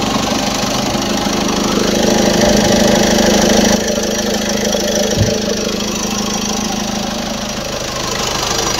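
A Ford EcoSport Titanium engine idles steadily and smoothly, a continuous close rumble with a faint knocking texture and a brief thump partway through; no voices.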